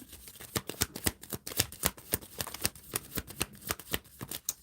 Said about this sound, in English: And then I was shuffling